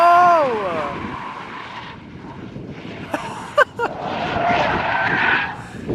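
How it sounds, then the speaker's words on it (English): A big-turbo BMW E46 M3 drifting at high speed produces a rising tire squeal at the start, followed by a quieter rush of distant tire noise and brief sharp bursts, with excited voices talking over it. "You can't even hear no engine, just tires."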